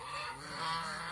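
Domestic geese honking close by, a short burst of overlapping nasal honks lasting about a second.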